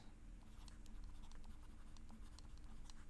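Pen or marker scratching out a maths problem for a fractions and order-of-operations lesson, with short irregular strokes repeating steadily at close range over a faint background hum, no talking.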